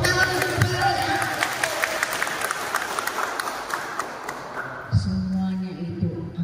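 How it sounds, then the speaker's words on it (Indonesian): Audience applause for the village head at a village institution capacity-building event in Tasikmalaya, a dense wash of many hands clapping that holds steady for several seconds, then thins and fades near the end. "Tepuk tangan untuk Kepala Desa."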